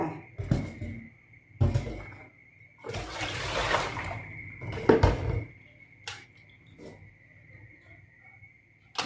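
Freshly picked wild field mushrooms being washed by hand in a basin of water, with several splashing, sloshing bursts separated by brief pauses and a steady faint tone underneath, close and moderately loud.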